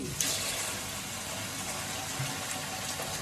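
Hot water running from a tap into a sink while tools are cleaned with an SOS pad: a steady, hissing rush of flowing water throughout, close and moderately loud, with a faint clunk near the start.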